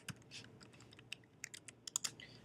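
Typing on a computer keyboard to enter an FTP host, a quiet run of irregular close key clicks and taps.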